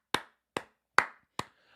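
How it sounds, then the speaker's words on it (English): Four sharp, evenly spaced hand claps ring out alone in a quiet space, each a crisp close slap with a brief decay. "I just have to applaud this guy"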